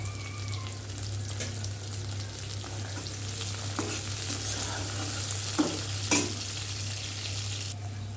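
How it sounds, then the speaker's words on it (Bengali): Prawns are lightly fried with onions in oil, producing a continuous close hiss of sizzling with a few scattered spatters and stir knocks, fairly soft and even throughout. "চিংড়ি মাছটা হালকা ভেজে নেব পেঁয়াজের সাথে"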